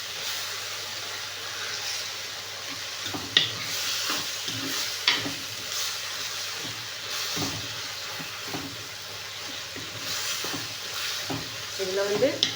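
Tomatoes frying in a pan with turmeric, a constant close sizzle and hiss with occasional stirring clatters and scrapes throughout.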